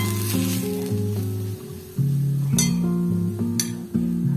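Spice powders sizzling in hot oil while sambar is prepared, a steady close frying hiss with brief clinks of a utensil against the pan and music playing along.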